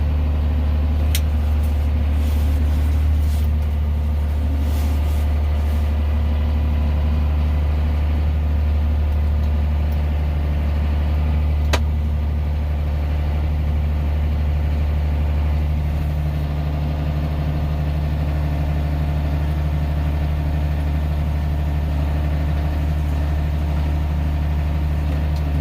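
A tractor engine idles steadily close by for the whole stretch, a low constant rumble with a deep throbbing hum and no change in pace.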